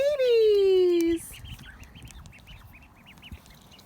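Ducklings quack outdoors: one loud, long descending call up close at the start, followed by a scattering of faint, short peeps and quacks in the background.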